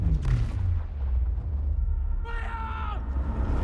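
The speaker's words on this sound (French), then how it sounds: "Dans un océan de flammes et d'explosions, Lisa, instruite de la vérité, prend parti pour les robots" Deep booms and blasts from a film battle scene amid an ocean of flames, rumbling under a voice narrating over them, with a brief high shrill cry near the end.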